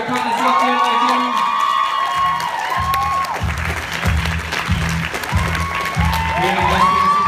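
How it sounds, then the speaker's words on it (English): A convention crowd at the MCM London 2014 Power Rangers panel claps and cheers loudly, with shouts rising throughout, while an amplified voice and rhythmic music carry on beneath the noise. "give a round of applause for Power Ranger Partners up there, ladies and gentlemen"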